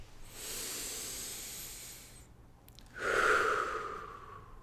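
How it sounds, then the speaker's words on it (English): A deep, slow breath taken together during a calm group gathering: a long airy inhale, a brief pause, then a stronger, breathy exhale, close and unhurried, with no talking. "Let's take a deep breath together."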